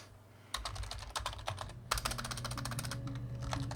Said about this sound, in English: Because I'm busy typing.